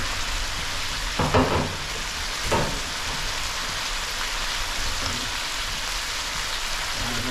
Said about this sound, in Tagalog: Kumukulo na rin